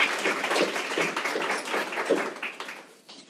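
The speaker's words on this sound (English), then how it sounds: "so a round of applause for Alec" Audience applause for a speaker at a small recycling talk, a brief patter of clapping from a modest group that tapers off, with a voice faintly present near the end.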